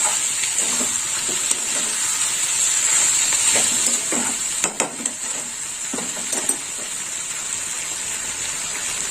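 Mustard paste frying with a vegetable curry in an oiled pan gives a steady, loud sizzle, with scattered clinks and scrapes of stirring against the pan.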